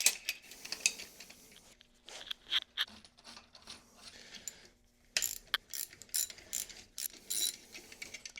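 Ratcheting clicks and metallic turning from an injector puller tool being screwed into a fuel injector on a BMW N55 engine during a rebuild, quick bursts of clicks with brief pauses, close and fairly quiet.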